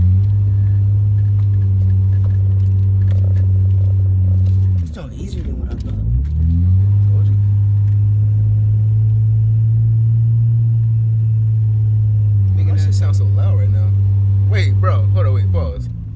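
Car engine revs hard and steadily with a deep droning roar, drops briefly, then surges back loud and sustained; voices and clatter break in occasionally.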